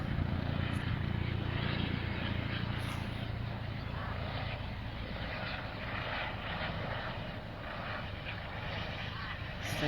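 An ambulance helicopter flies overhead, its engine droning as a steady, continuous rumble throughout.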